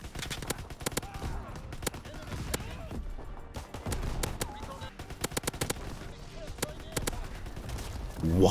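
Gunfire from the World War II shooter Call of Duty WW2 cracks in rapid bursts and scattered single shots under game ambience, loud and close, with a voice talking intermittently.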